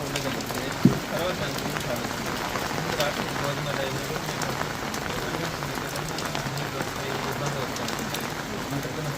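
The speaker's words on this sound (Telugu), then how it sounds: "ఈరోజు కురుస్తున్నటువంటి నిన్న సాయంత్రం నుంచి కురుస్తున్నటువంటి వర్షాలతో" Steady rain falls in Nellore district during a cyclone-driven downpour, a dense continuous patter across the whole stretch with a brief knock near the start.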